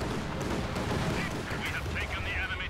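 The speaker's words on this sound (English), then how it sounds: "we got another Stuka strafing run going in" A Stuka dive bomber makes a strafing run in the World War II strategy game Company of Heroes 2, a dense roar of rapid cannon and gunfire bursts that stays loud and continuous while a commentator speaks over it.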